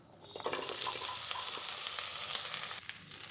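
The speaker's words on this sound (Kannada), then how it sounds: "ಈಗ ಬೆಂಡೆಕಾಯಿ ಹುರ್ಕೋಬೇಕು" Sliced okra sizzles and fries in hot oil in a pan with chili powder and turmeric, giving a steady close hiss with light stirring that fades near the end.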